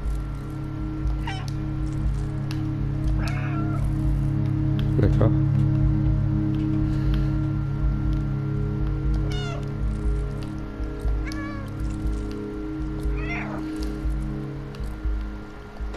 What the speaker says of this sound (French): Miauler. Ça sert à quoi de miauler?